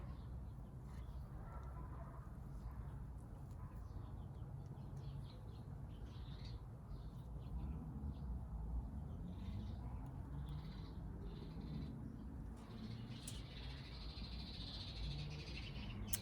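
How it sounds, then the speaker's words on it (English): Birds call outdoors in a garden, scattered chirps and calls rising over a low steady background rumble, with frog-like croaks among them and no talk. "Love the sound of the birds."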